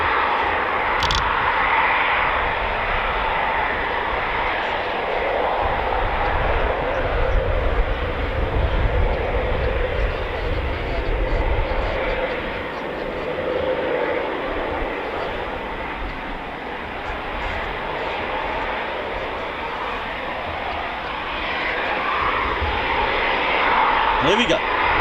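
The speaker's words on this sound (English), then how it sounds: "Right, 11 fighter squadron taxiing out." A Eurofighter Typhoon FGR4 jet of 11 Squadron taxiing at RAF Coningsby in the evening, a steady loud engine roar and whine held throughout, with a person talking over it.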